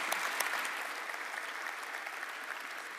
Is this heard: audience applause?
yes